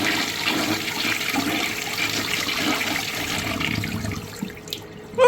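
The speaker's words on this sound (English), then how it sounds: "Let's have a look at bowl rinse now." Briggs Pennton washdown urinal from the 1970s to 1990s flushing, a steady rushing bowl rinse of water that runs for several seconds, then tapers to a trickle near the end.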